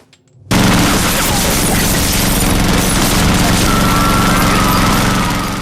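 After a brief silence, a loud, sustained rattle of rapid automatic gunfire with a rumbling roar underneath runs without pause to the end.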